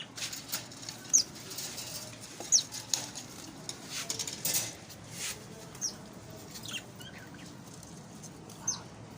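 Parrots bathing in a cage in hot summer weather make intermittent bursts of fluttering, wing-flapping and splashing, fairly faint and scattered across a quiet background.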